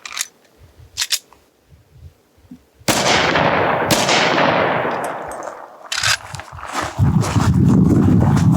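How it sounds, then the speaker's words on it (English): A gunshot fired at level 3A soft body armor: a few faint clicks, then one sudden loud blast with a long echoing decay, followed by further sharp cracks and rumbling noise, no voices. "Sync up the gunshot as well"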